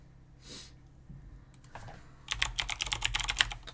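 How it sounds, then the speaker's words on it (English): Loud clicky typing on a computer keyboard, a dense burst of rapid keystrokes in the second half after a few scattered clicks, close to the mic with no talking. "I know I have the loudest keyboard ever"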